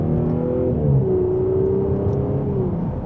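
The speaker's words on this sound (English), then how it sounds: "And a mild acceleration, we are up to speed." A 2025 Audi S5 Sportback accelerating from inside the cabin, a steady engine drone with rising and gliding tonal whine over road rumble, moderately loud and continuous.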